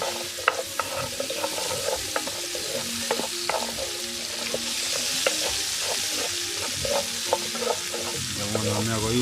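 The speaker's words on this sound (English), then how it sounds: "so fry them a little bit." Vegetables frying and being stirred in a pan while cooking crayfish: a steady, close sizzle of hot oil with repeated clinks and scrapes of a utensil stirring at an uneven rhythm.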